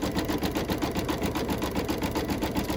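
An embroidery machine stitches a row of a Halloween quilt block, a fast rhythmic needle chatter, close and steady throughout with no voices.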